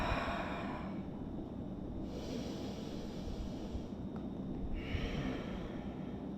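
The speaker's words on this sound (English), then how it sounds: "Inhaling to expand, exhaling to let it go." Slow, deep breaths during a lying back-release stretch, with long breathy inhales and exhales alternating in an airy hiss over a low rumbling background. The breathing is close and steady and no one speaks.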